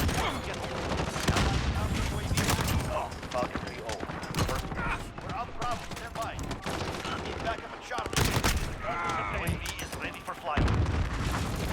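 Rapid M4A1 gunfire loaded with SOCOM rounds in Modern Warfare Season 3, dense bursts and booming shots running almost continuously at close range, with a voice talking over the firing.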